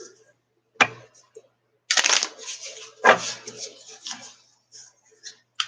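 Tarot cards being cut and shuffled by hand, a few sharp snaps followed by short riffling bursts with quiet gaps between them, close and fairly soft.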